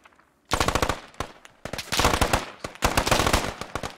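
An M249 light machine gun in the game Squad fires on full auto in three long bursts of rapid, loud, evenly spaced shots, separated by short pauses.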